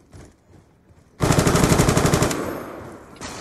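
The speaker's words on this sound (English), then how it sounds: "That's a shotgun, isn't it?" Rapid burst of shotgun fire from the Black Ops 2 video game, a loud sustained volley of close, repeated blasts lasting about a second after a quiet start, then fading into lingering game noise.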